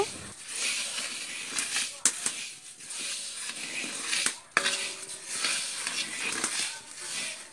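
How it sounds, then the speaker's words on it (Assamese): Rice grains dry-roasting in a pan for puffed rice, a steady dry rustling hiss with scattered light crackles and a few sharp scraping clicks, close and moderately quiet. "এনেকৈ আমি চাউলখিনি 20 মিনিটমান ভাজি থাকিব লাগিব"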